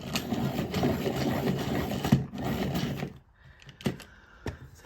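A cocoa brown colouring pencil being sharpened, a fast whirring grind for about three seconds, close and fairly loud, followed by a few light clicks and taps.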